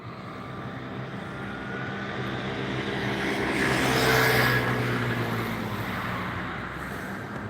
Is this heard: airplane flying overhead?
yes